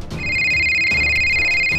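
A telephone rings at a fire station as a call comes in about a kitchen fire, with a loud, steady electronic ringtone tone sounding close and continuous after a brief start, and no talking over it.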